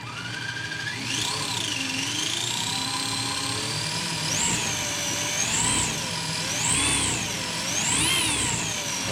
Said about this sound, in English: let's slowly rev it up and see if we got full throttle